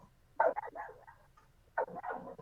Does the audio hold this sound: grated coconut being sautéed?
no